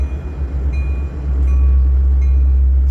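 A westbound freight train rolls past in Fremont, Nebraska, a steady low rumble of rail cars with faint metallic squeals, continuous and fairly close.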